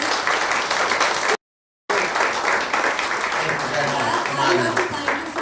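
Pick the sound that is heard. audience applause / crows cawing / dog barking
audience applause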